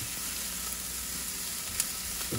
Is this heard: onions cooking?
yes